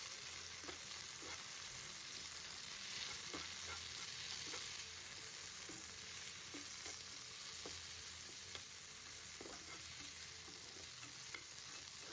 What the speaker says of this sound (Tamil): நான் இப்போ கருவேப்பிலையும் சேர்த்துக்கிறேன் சேர்த்துட்டு அதையும் நான் நல்லா வதக்கிக்கிறேன்